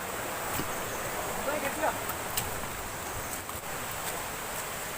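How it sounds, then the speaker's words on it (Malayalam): Steady broadband rush of a small waterfall flowing between rocks at Swapnakundu, Karuvarakundu, continuous and moderately loud throughout, with no other distinct sounds. "ചെറിയൊരു വെള്ളച്ചാട്ടമാണ് ഇവിടെ"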